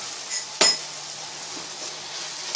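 A utensil stirs chopped tomatoes and garam masala in a pan with one sharp clink of metal on the pan, while a steady hiss of cooking continues underneath.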